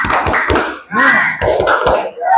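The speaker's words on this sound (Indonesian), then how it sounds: "Tepuk semangat." A classroom group performs an Indonesian spirit clap (tepuk semangat): loud rhythmic bursts of hand claps in quick patterned clusters, with voices chanting and calling out between them.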